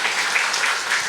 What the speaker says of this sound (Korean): 우리 새 가족들을 위해서 사랑과 축복의 박수 맞이하겠습니다